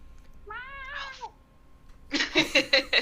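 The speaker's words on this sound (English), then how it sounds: "There's a cat in the background." Cat meowing in a drawn-out, wavering call, followed after a pause by a run of several sharp, rhythmic cries, moderately close and heard alone.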